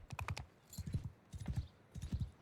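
Clip-clop of a feathered horse's hooves in a fantasy video game, four quick bursts of hoofbeats at a steady trotting rhythm, close and fairly quiet with no talk.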